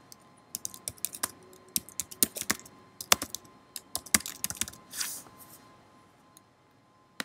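Close, quiet typing on a computer keyboard, irregular bursts of clicking keystrokes with a softer rustle near the end.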